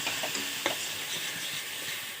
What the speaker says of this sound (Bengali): জিরেগুলো, হলুদের গুঁড়ো, স্বাদ মতো লবণ, ভালো করে কষিয়ে নেব মশলা।